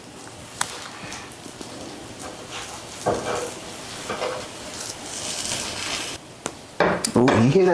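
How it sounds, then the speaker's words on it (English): Grilled cheese sandwiches cooking in a pan give off a soft continuous sizzle, mixed with clatters of utensils and pan knocks and bursts of nearby talking. "you hear that sizzle?"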